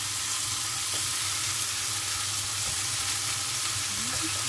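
Mustard greens and mushrooms stir-frying in a pan: a steady, close hiss of sizzling oil continues throughout, with faint scraping of the utensil and no voices.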